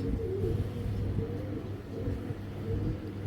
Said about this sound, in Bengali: একজোড়া কালদম কবুতর, খুব সুন্দর দুর্দান্ত ফ্লাই টাইম পাবেন